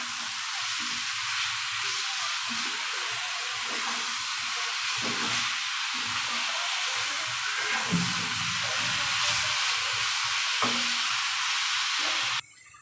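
Shredded cabbage dropped into a pan of frying onion and green chilies, a continuous loud sizzle and hiss with occasional stirring scrapes, steady until it cuts off at the end.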